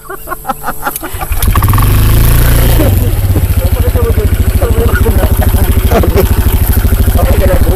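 A motorcycle engine idles close by beside a river, with a steady low throb and dense rapid pulses after a brief start, while people talk over it.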